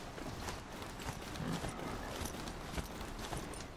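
Rapid galloping horse hooves in the video game Horizon Zero Dawn, a steady clip-clop rhythm running throughout at moderate loudness, with no speech.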